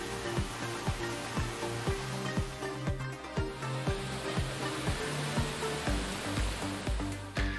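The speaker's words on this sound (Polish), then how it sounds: "Oto wodospad Kurtaliotis" The Kourtaliotis waterfall in a rocky gorge on Crete rushes as a constant broadband roar, with regular low thumps and tones layered over it.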